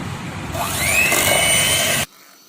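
An electric mixer whips cream at high speed for homemade butter, a loud, steady motor whir lasting about two seconds before it cuts off abruptly.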